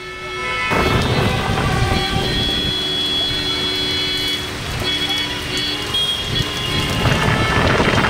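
Heavy rain pours down steadily during a thunderstorm in Hyderabad, Telangana, a dense, loud, unbroken roar with low rumbles of thunder rolling underneath throughout.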